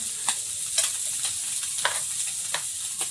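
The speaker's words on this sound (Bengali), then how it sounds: "পুঁটি মাছ ভাজা তো ওই হচ্ছে" Steady sizzle of small puti fish frying in a pan with occasional scraping stir sounds at irregular intervals, close by and moderately loud, no talking.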